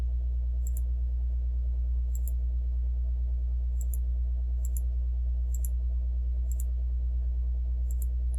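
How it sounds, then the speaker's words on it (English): Sharp computer mouse clicks, about eight of them spaced irregularly over a steady low hum, close and fairly crisp with no talking. "Sorry, I'm just clicking."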